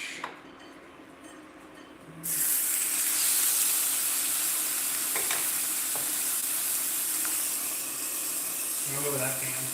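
Oil frying and sizzling in a pan at a home stove, starting abruptly after a quiet couple of seconds and then holding as a steady, loud hiss with faint clinks of utensils near the end.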